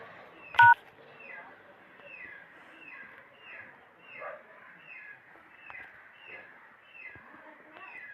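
A single sharp keypad tone from an Oppo or Realme phone while a secret code is dialed, followed by soft, repeated bird-like chirps in the background.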